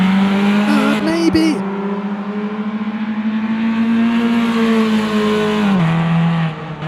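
Race car engines scream at full throttle on the Hockenheim circuit in a feature race, a loud, sustained high-pitched wail rising steadily, briefly dipping at a gear change and ending as the revs drop, with a short spoken word early on.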